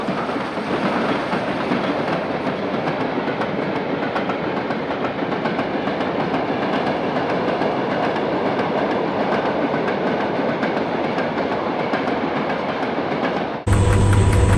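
Model train 5454 runs steadily over a viaduct on the Miniworld layout, a continuous close rumble with fine clickety-clack from the rails that holds even until it cuts off abruptly near the end.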